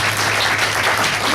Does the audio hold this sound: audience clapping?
yes